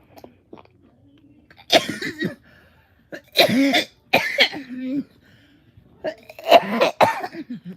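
Several bursts of coughing from one nearby person, in separate harsh clusters with short quiet gaps between them, loud and close to the microphone with no other sound around them.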